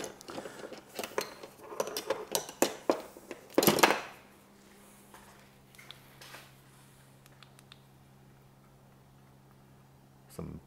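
Metal oil filter and filter housing from a BMW M6 S85 engine handled on a workbench, giving a run of clattering knocks and taps at close range, then a low steady hum with a few faint clicks.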